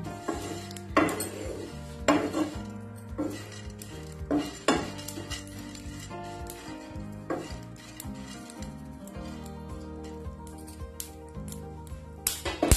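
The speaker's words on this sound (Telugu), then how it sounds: "ఇవి కూడా చిట్పట్ అంటూ వేగుతాయి" Melon seeds roasting in a pan, with soft crackling and a spoon scraping and clinking against the metal at intervals, fairly quiet and close.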